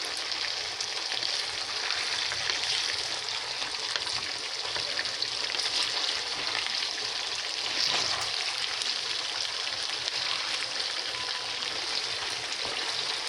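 Potatoes and onions fry steadily in a pan, a loud, close, continuous sizzle and crackle that holds throughout with no talking.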